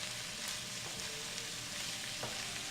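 Fresh cabbage being stir-fried in a pan, a steady soft sizzle running throughout with occasional faint clinks of stirring, at a low level with no talking.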